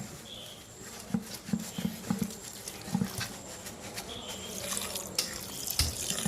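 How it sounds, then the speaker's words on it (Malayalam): Water is poured into a pot of turkey roast to cook it, a trickling, splashing stream at moderate level, broken by a few soft clinks of the vessel. "സ്വല്പം വെള്ളം കൂടെ വെച്ച് വേവിക്കാം."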